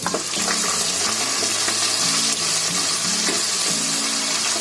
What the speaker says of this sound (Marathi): आता त्याच्यामध्ये मी टोमॅटो टाकते.